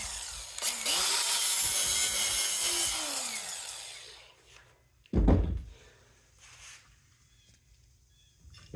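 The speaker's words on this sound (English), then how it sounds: "Let's go ahead and find a place to scratch that and see if it's copper." A metal pump part is scratched and scraped to check for copper during scrapping, a loud gritty rasp for several seconds followed by a sharp knock and quieter handling noises.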